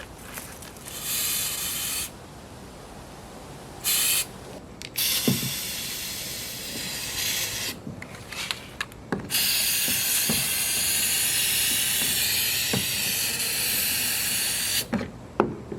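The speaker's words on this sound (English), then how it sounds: "I'm going to put the flex seal underneath and on top." Flex Seal being sprayed onto a kayak, long loud hissing bursts from the aerosol can separated by short pauses and a few clicks, closest and longest toward the end.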